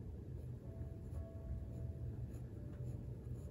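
A Benu Talisman fountain pen nib writes on paper, a faint, soft scratching with short strokes and brief pauses, quiet and close.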